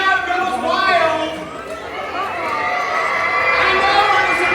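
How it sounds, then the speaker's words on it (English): Lively crowd chatter and cheering at a Sea World sea lion and otter show in San Antonio. Voices and shouts fill the clip throughout, loud and steady with swelling moments, children's shouts mixed in. "he shoots, he scores, and the crowd goes wild"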